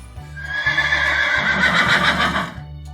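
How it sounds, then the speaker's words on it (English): A horse gives a loud, drawn-out whinny over a steady, rhythmic thud of galloping hooves that runs through the whole stretch. "Look at the fast horse."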